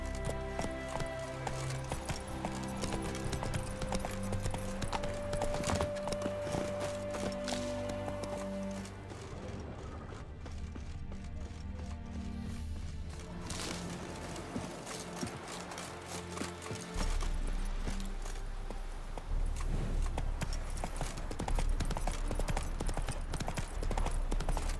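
A horse gallops in the video game The Witcher 3: Wild Hunt. Rapid clip-clop hoofbeats run steadily throughout under a dense, loud game soundtrack and ambience.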